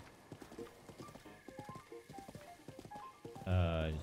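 Horse hooves clip-clopping at a steady gallop in The Legend of Zelda: Breath of the Wild, a rhythmic run of close hoofbeats, ending in a brief burst of louder game sound.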